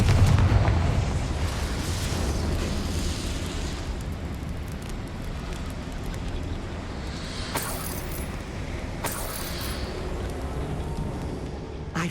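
The Confringo blasting spell explodes in Hogwarts Legacy with a loud, heavy burst at the start. The blast fades into a long rumbling tail with scattered debris-like crackles and a couple of sharp bright hits later.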